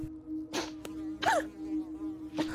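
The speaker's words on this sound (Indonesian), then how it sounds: "Sementara Suna beribadah sholat isya dengan khusyuk hingga seekor lalat mengganggu konsentrasinya" A small fly buzzes close by during quiet evening prayer, its whine coming in short bursts that rise and fade several times against a steady low hum, with no talking.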